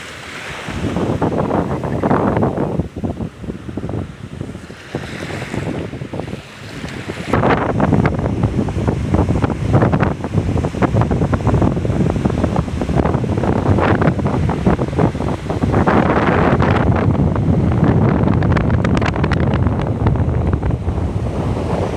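Strong wind roars across the microphone while sea waves surge and break at a rainy beach near Sattahip, loud and continuous with gusty swells and no voices.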